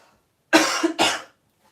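Two sharp, close coughs in quick succession, with silence before and after.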